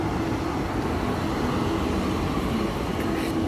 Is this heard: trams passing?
yes